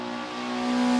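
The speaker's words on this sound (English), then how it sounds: "The loud, noisy, spoiler rally-focused sedan called the Evo" A Mitsubishi Lancer Evo rally-focused sedan engine rises in pitch as it revs up, a sustained tonal drone building louder over about a second, heard alone without talking.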